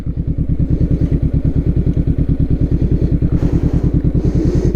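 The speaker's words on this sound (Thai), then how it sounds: "มอเตอร์ไซค์มา มอเตอร์ไซค์มาอีกแล้ว" A motorcycle engine runs close and loud with a steady, rapid low thumping pulse throughout, heard on a road during a CBR500R versus Ninja 650 acceleration test, with no talk over it.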